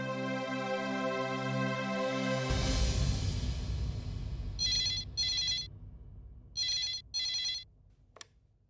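A telephone rings indoors in a household setting, four short electronic ring bursts in two pairs, clear and moderately loud after fading background music and a swell of noise.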